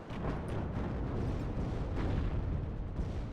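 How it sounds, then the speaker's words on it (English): Artillery fire in the WARNO strategy game hitting tanks, a dense stretch of rumbling explosions and booms that blend into a continuous roar. "Good use of artillery damaging the Cubs."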